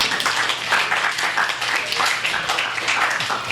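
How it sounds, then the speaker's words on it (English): An audience applauds steadily to welcome performers at a staff showcase, a dense wash of many hands clapping at close range, with no pauses or speech. "let's bring these guys up here with a big round of applause"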